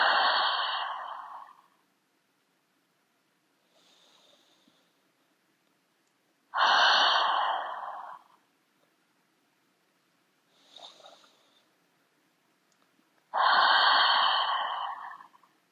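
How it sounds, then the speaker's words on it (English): Slow, deep breaths during a yoga breathing exercise for headache relief: three long, loud, airy exhales come close to the ear at even intervals, each followed by a much fainter inhale and near silence. "we'll be going through 3 more breaths on our own"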